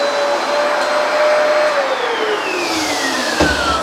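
A Hoover PowerDash carpet cleaner runs steadily on a dirty kitchen rug, giving a loud, continuous motor whine whose pitch slowly drops as airflow is restricted, with a brief bump near the end.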